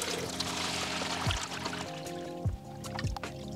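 Water pours from a 10 litre watering can into a Nelson Garden Harvy hydroponic planter, a steady close gurgling stream with a few deeper glugs, moderately loud and with no talk.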